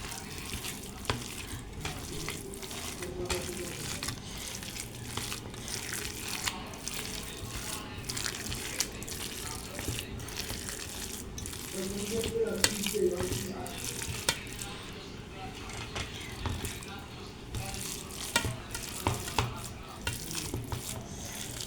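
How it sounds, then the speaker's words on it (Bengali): Potato roll filling ingredients are mashed and mixed by hand, giving soft wet squishing and rustling close by, continuous with irregular louder squelches. "আমি আস্তে আস্তে সব উপকরণ মাখিয়ে নেব।"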